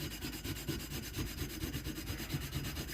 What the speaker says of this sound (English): So I'll just scrub it really good, get it as clean as possible